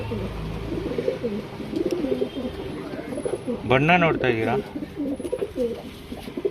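A pigeon cooing in a rumbling, repeated pattern, with one louder burst near the middle. It is heard close by under someone speaking throughout.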